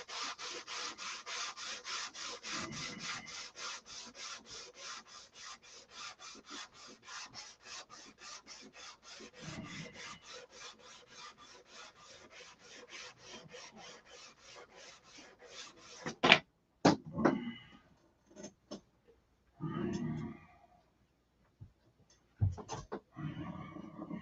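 Sandpaper rasps steadily over filler on the canopy of a SIG Magnum model airplane, a fast rhythmic scrubbing for about sixteen seconds, then a few separate short strokes and handling knocks close by.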